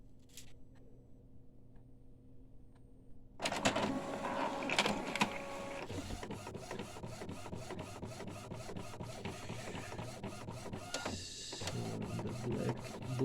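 An Epson SX218 inkjet printer, under repair, starts up after a quiet pause with a few faint clicks, then prints a test page with the whirring carriage and paper feed mechanism clattering steadily.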